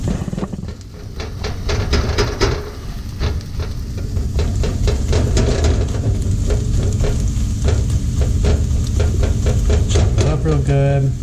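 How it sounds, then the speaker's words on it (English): An egg frying in a pan while fried quinoa is being made, giving a steady loud sizzle with repeated clicks and scrapes from stirring and a utensil tapping the pan, with voices talking at times. "So we're going to fry this egg up and then remove it"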